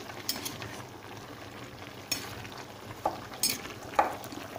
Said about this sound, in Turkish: Bu arada biberimiz de iyice kaynamaya başladı. Biz de karıştırmaya başlıyoruz.